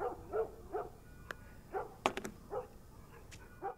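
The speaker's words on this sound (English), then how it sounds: "why did the dog stop barking?" A dog in the video game The Last of Us Remastered barks repeatedly at a steady pace, somewhat distant and muffled, with a few sharp high clicks mixed in.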